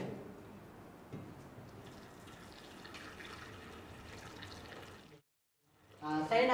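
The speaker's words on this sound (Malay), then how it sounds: "menuangkan air panas ini sedikit demi sedikit" Hot water is poured little by little into a container holding a thermometer model, giving a steady, soft trickling and splashing that stops briefly before a louder gush returns.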